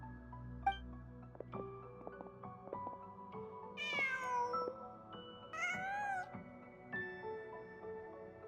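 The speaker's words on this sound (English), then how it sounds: "Just a cat." Cat meowing in the Genshin Impact video game, a few drawn-out, wavering meows rising over soft background music, clear and moderately close.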